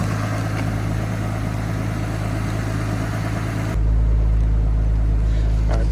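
A Nissan R34 Skyline sedan from Okubo Factory idles with a steady, low engine rumble close by; partway through the tone changes abruptly to a heavier, smoother low hum. No one speaks.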